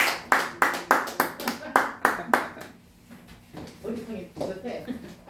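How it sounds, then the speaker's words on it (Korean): Rhythmic hand clapping in a Korean Baptist church Sunday worship service, about a dozen sharp claps in a steady beat that fade into softer, scattered sounds and murmuring voices. "감사해 박수."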